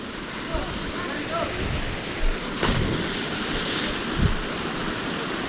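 Rushing river water at Santaneshwor, near the Jharuwarashi waterfall in Nepal: a steady, broad roar of flowing water fills the scene, with a few brief bumps and a voice speaking faintly over it.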